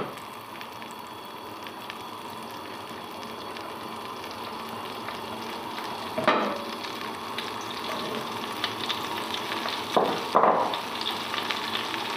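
Steady sizzling of spices frying in butter for a curry tempering, with a couple of brief louder crackles and clinks partway through, no voices.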